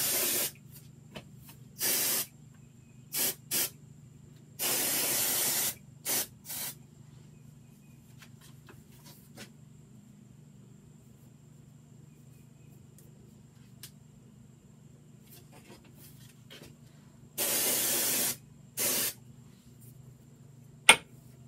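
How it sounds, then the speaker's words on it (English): L'Oreal Magic Root Cover-Up is sprayed onto hair in short hissing bursts, several quick spritzes separated by long quiet gaps, close and crisp. "I have my trusty L'Oreal Magic Root Cover-Up."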